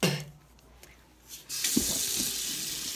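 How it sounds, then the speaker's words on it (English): A bathroom tap runs as a toothbrush is rinsed under it, soft clicks and handling at first, then a steady splash of water filling the space for the last half of the clip. "Rinse off my brush."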